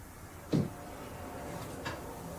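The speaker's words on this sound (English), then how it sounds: "You open this door." A single soft thump of a door being moved, followed a second later by a fainter knock, over a steady low background hum.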